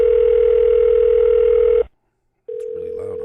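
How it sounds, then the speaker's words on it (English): A telephone call rings out through a line, giving a loud steady tone that cuts off briefly and then starts again, with nobody speaking. "It's ringing."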